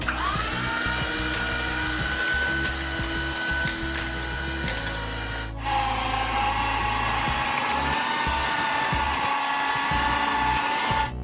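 Flour being mixed into chocolate cookie dough with an electric mixer, a steady whining motor hum whose pitch drops and shifts midway, continuous and close with no voices.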